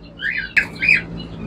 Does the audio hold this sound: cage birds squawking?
yes